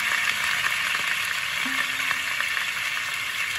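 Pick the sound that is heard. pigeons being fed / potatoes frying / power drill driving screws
potatoes frying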